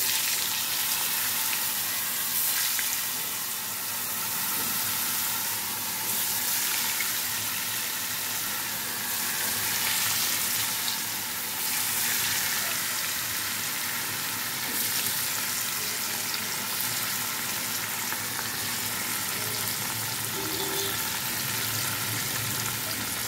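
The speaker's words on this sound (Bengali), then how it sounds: "এর উপরে আস্তে আস্তে পনিরগুলো দিয়ে ভেজে তুলব।" Paneer pieces frying in hot oil seasoned with turmeric and salt, a steady broad hiss and crackle that runs unbroken and fairly loud throughout.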